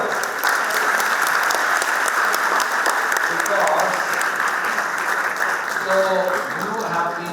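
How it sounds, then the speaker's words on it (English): Lecture audience at a talk on law giving sustained applause, a thick, continuous roar of clapping that stays loud throughout, with a few voices rising near the end. "You deserve an amazing set of applause."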